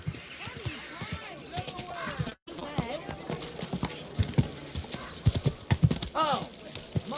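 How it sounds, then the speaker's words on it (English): Horse hooves clip-clopping in the medieval video game Kingdom Come Deliverance 2, a brisk uneven run of close hoof thuds with a brief neigh, under intermittent speech. "Easy, good horse."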